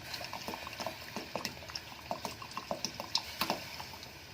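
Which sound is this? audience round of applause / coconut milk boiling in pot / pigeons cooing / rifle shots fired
coconut milk boiling in pot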